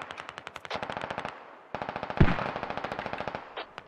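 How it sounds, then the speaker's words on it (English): Rapid automatic gunfire in the video game Squad, two long bursts of evenly spaced shots with a short pause between, and one louder, heavier impact in the middle of the second burst. "Getting shot from down the hill."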